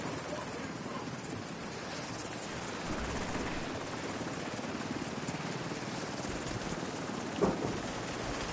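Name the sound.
helicopter approaching in a video game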